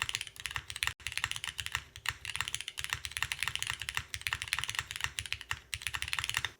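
Steady typing on a full-size custom mechanical keyboard, close and fairly quiet, with a continuous rapid patter of deep clacky keystrokes and a brief pause near the start.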